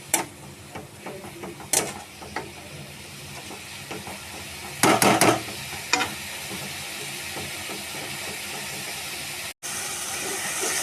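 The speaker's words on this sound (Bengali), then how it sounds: "মাছের ঝোলের জন্য পেঁয়াজটা ভেজে নিই, তারপরে মশলাগুলো দিয়ে দিই" Onion and spices frying in a pan over a gas flame for a fish curry, a steady close hiss and sizzle with scattered sharp clinks and scrapes of stirring, louder in a brief burst midway.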